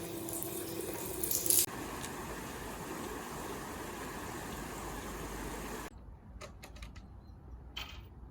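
Water runs steadily from a tap, likely a shower or sink aboard a canal boat, as freshly dyed hair is rinsed out. The flow continues for several seconds, then cuts off and leaves a few quiet knocks and drips.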